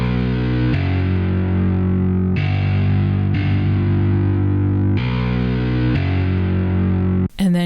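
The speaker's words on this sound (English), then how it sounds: "I use this plugin called Low Key Bass, and it is amazing, and this is what this sounds like." A rock-styled bass from a software plugin plays sustained, heavily distorted notes that change pitch in a few long phrases, loud and upfront, ending in a brief burst of noise.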